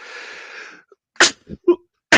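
A voice murmurs briefly, then a sharp nearby sneeze follows, with a couple of small breathy sounds and another sneeze-like burst at the end.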